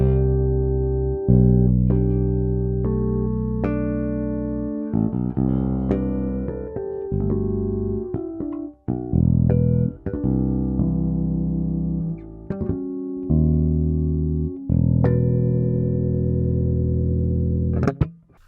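A Sterling by Music Man Ray34 StingRay electric bass with a roasted maple neck is played with tapping, producing quick plucked notes and sustained tones in a melodic run, with a slightly distorted, effected sound.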